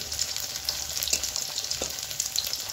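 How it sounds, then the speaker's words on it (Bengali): Small pieces of flour dough deep-frying in hot oil, a steady close sizzle with occasional brief pops and crackles running throughout, no voices. "অল্প অল্প দিয়ে ভাজবে বন্ধুরা, বেশি দিলে লেগে পড়বে"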